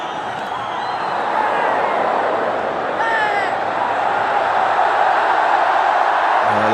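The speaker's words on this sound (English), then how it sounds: "it's a very noisy crowd" A loud, noisy crowd at a cricket stadium during a match, a dense continuous roar with faint whistles and cheers rising within it, steady throughout.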